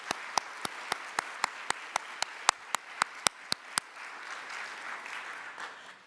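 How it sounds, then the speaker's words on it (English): An audience at a nursing education awards event applauds, a soft steady patter of many hands under a run of about fifteen sharp, evenly spaced claps close by that then stop, leaving the crowd to fade. "please give us a round of applause"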